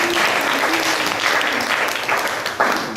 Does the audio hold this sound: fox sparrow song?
no